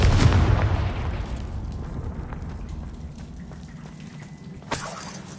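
A Confringo fire spell blast erupts in Hogwarts Legacy, opening with a loud, heavy booming burst that rolls off into a long, fading rumble, followed by a sharp crackling flare near the end.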